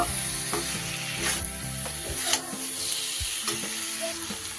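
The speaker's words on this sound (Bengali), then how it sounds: "এবার আমি মাশরুমগুলো এর মধ্যে অ্যাড করে দিলাম সব কিছু খুব ভালো করে হালকা হাতে মিশিয়ে নেব" Mushrooms mixed with spices being stirred and fried in a pan for a mushroom curry, a constant close sizzle broken by soft rhythmic spatula scrapes.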